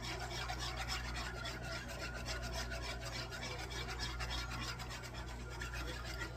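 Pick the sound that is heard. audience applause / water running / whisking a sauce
whisking a sauce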